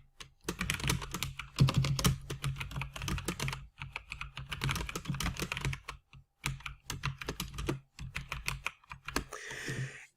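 Steady typing on a computer keyboard while entering text into a Microsoft Word text box, close-up clicky keystrokes in bursts separated by short pauses.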